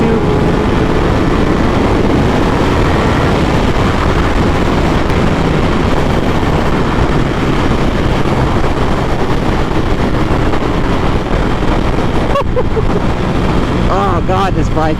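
A Ducati Panigale V4S motorcycle engine pulls hard under throttle, its sustained roar heavily buried in loud, constant wind rush, with rising engine tones surfacing toward the end.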